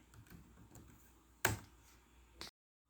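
Computer keyboard keys are tapped while entering router commands, a few faint soft clicks followed by one sharp, louder keystroke and another tap before silence.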